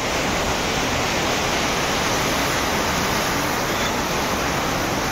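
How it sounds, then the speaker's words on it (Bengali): Plentiful water streams along a mountain path, a loud, steady broadband rush that stays constant throughout, heard close up with no talking. "দেখুন এই যে প্রচুর জল বয়ে আসছে চলার পথে"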